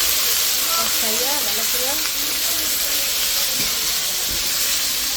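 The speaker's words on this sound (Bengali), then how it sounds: "আদা জিরা বাটাটা দিয়ে দিলাম।" Ginger and cumin paste sizzles loudly and steadily in hot oil for the whole stretch, a constant frying hiss, while a voice speaks briefly over it.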